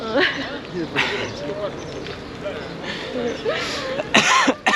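A few harsh coughs and throat clearing break through close, ongoing French conversation between people at an outdoor Renault Sport and Alpine car event in Aix-les-Bains.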